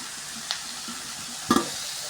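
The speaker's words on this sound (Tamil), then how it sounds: "ஆட் பண்ணி நல்லா வதக்கி விட்டுக்கலாம்" Sliced onion and coconut pieces sautéing in a pan, a soft continuous sizzle broken by two brief scraping clicks of a spoon stirring, close and quiet.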